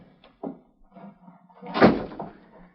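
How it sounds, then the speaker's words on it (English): A door swings shut in an old-time radio western drama, a solid thunk with a short creak before it and a softer knock after, moderately close, with faint room shuffling and no clear talk. "Close that door."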